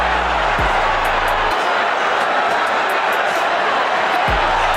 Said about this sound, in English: Crowd is roaring.